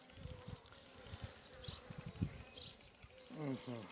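Honey bees buzzing close by at a hive during queen renewal, a busy, aggressive droning hum with voices talking intermittently over it.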